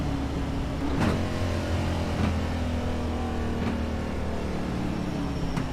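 A damaged stock car engine in an iRacing NASCAR race at Kansas Speedway drones steadily and loudly, with a low rough hum, a faint whine, and a few sharp transient spikes. There is no talk.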